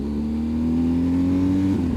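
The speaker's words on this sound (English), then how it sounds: "Ooh, missed a gear." A BMW motorcycle engine revs with a rising, steady drone on a missed gear shift, loud and close, then briefly stumbles at the end.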